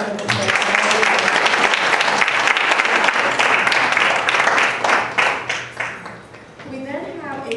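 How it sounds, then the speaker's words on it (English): Audience applause at an awards ceremony, loud dense clapping that holds steady and then thins into scattered claps toward the end, with voices mixed in. "So let's give them another round of applause."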